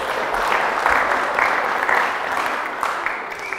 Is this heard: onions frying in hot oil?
no